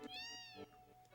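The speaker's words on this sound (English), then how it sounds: "And that's a cat. I thought that was a little girl." A cat meows once in a Final Fantasy 7 ski village area, a clear, rising then falling cry heard close and alone against faint game ambience.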